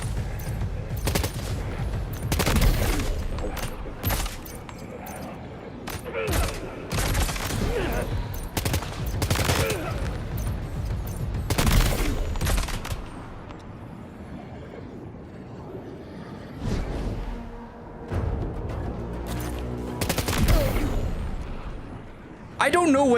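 Assault rifle fire in the video game Death Stranding 2, loud repeated bursts and rapid volleys spread throughout, with a player talking over the shooting.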